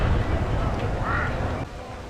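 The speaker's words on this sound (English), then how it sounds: "birds in the sky" Birds calling in the sky of the Dragon Age: Inquisition game world, a few short quacking, duck-like calls over a low ambient bed, moderately near.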